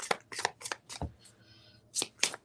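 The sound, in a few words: shuffling tarot cards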